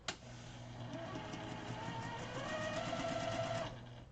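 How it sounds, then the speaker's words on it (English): A sewing machine runs steadily for about four seconds, stitching a quilt-as-you-go quilt block, with a continuous motor hum and rapid needle rhythm. It starts abruptly, stays close and moderately loud, then stops. "I'm just going to carry on stitching on this side right now"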